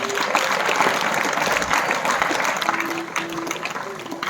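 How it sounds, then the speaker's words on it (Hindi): Audience at a school event clapping loudly for a teacher after a student's speech, dense continuous applause with faint voices underneath. "जोरदार तालियां हो जाए"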